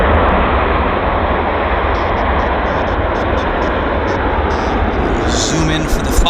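An airplane takes off nose high at Vancouver International Airport, its engines a loud, steady broadband roar filling the whole stretch while a voice speaks faintly over it.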